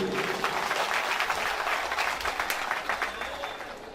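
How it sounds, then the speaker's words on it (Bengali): An audience at a family reunion gathering claps for the event chairman taking his seat on stage, a dense, fairly faint round of applause that fades slightly toward the end. "আমরা ওনার জন্য জোরে একটা করতালি দিই"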